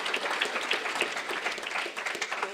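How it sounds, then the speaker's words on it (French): Faint, steady applause from an audience at a school prize-giving ceremony, honoring a top graduate of her class, distant clapping with scattered individual claps and no clear voices. "on peut l'applaudir"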